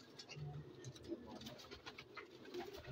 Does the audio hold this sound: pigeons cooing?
yes